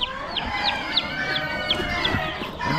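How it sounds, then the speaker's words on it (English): Lavender Orpington chickens cluck close by, with a quick series of bright, repeated calls over a soft rustling farmyard background. "Some of the lavender Orpingtons that I hatched out last time."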